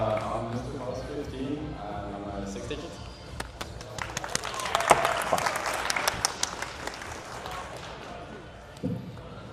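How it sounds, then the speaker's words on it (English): Talk opens the moment, then scattered claps from a crowd at a livestreamed tablet showcase event build into a burst of applause midway and fade, with a voice returning at the end. "Ah, round of applause."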